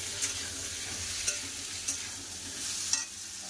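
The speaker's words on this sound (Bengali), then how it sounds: "এবার দিয়ে দেবো পেঁপে, কলা আর আলু। এই সবজিগুলো পেঁয়াজের সাথে ভালো করে ভেজে নেবো।" Papaya, green banana and potato frying with onion in a pan, a steady hissing sizzle punctuated by a few distinct spatula scrapes, near and moderately loud, without speech.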